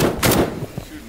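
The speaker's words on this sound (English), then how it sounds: "Shooting." Video game gunfire, a couple of heavy close blasts with a booming tail, followed by a fainter shot, all within about a second.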